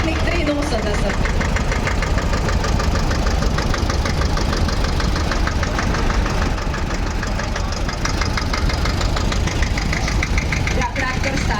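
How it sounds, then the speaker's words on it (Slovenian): An old Štajer tractor at a farm festival, its engine running with a steady knocking mechanical chug at close range, loud and continuous, with crowd noise mixed in. "Ja, traktor Štajer, vozi ga."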